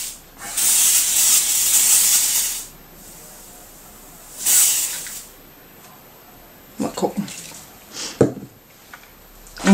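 A household spray dispenser hisses in a long, loud steady burst of about two seconds, then gives a shorter second spray, followed by quieter handling noises and brief speech.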